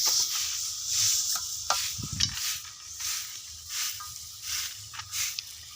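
Jaggery stirred in a hot pan for peanut chikki, a soft scraping swish with faint sizzle and a brief louder scrape partway through, steady and close with no talking.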